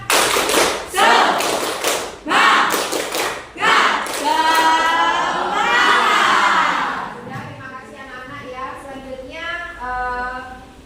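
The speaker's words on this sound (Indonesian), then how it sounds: "Kita tepuk semangat dulu ya untuk menambah semangat di pagi hari ini." Students in a classroom doing a rhythmic spirit clap chant, sharp patterned claps in quick groups followed by loud shouted chanting voices in unison, then a softer group chant.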